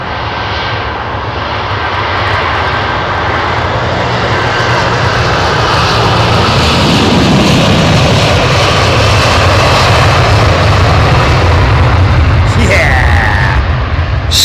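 Airbus A330 jet taking off from Heathrow, its engines giving a loud, sustained roar that swells and fills the whole stretch, with a brief higher whine near the end.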